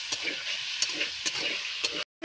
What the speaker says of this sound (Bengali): এবার কিমা করা মাংসটা দিয়ে দেবো। মাংসটাকে ভালো করে কষে নেব।